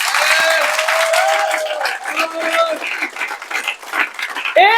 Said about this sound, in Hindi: जोरदार तालियों से आप बता देंगे।